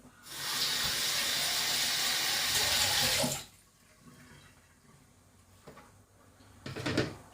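Excess vinegar is poured out of a bowl, a steady close splashing rush lasting about three seconds, then quiet handling clunks and a brief knock, with no talk.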